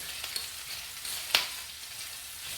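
Onions sizzling in pan drippings, a soft steady fry close by, broken by a couple of sharper crackles and spits.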